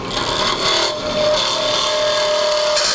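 Wood turning on a lathe, hollowing out a wooden lidded box, giving a continuous close, loud rasping scrape of the cutting tool against spinning wood.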